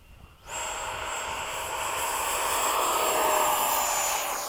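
A Freewing 80mm F-5 radio-controlled electric ducted-fan jet spools up for takeoff at a flying field, bursting into a loud, steady, high-pitched whine that rises slightly in pitch and holds close and strong, with no talking.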